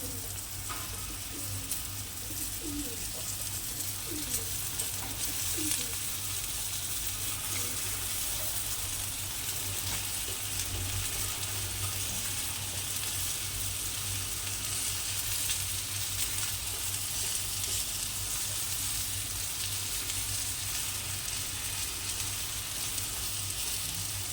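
Okra (bhindi) sizzles and fries steadily in a pan with ground coriander, a continuous close crackling hiss with no talk.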